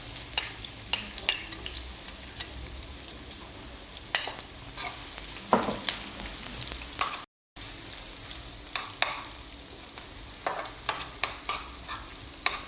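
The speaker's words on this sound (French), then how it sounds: "On va blanchir nos oignons" Onions cooking gently in not-very-hot oil as the base for a smoked-fish okra sauce, giving a steady soft sizzle with repeated sharp clicks and scrapes of stirring, one brief gap midway, no talk.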